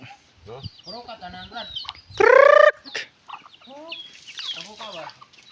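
A chicken on a farm lets out a loud, harmonic squawking cluck in the middle, with people talking before and after.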